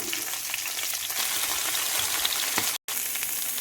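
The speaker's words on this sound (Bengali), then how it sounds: "গরম তেলের মধ্যে কেটে রাখা ফুলকপির টুকরোগুলো দিয়ে দিচ্ছি।" Cut cauliflower pieces sizzle and crackle steadily in hot oil, a dense, continuous frying hiss with a few stirring scrapes and a brief dropout near the end.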